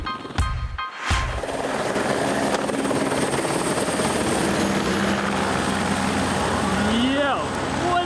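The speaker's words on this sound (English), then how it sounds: "Then a helicopter comes into play." Helicopter flying during a car-chase film stunt, its steady rotor and engine roar loud and continuous, following an explosion-like burst at the start.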